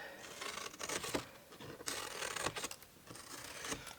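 Scissors cut through the paper lid of a handmade floral gift box, three faint, close rasping snips spaced about a second apart, with no one talking.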